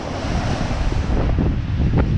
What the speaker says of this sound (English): See some waves under the pier there.